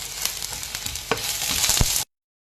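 Pork frying with sliced coconut and freshly added curry leaves gives a loud, steady close-up sizzle that swells with a few sharp crackles and pops, then cuts off abruptly.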